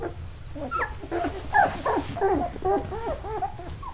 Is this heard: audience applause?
no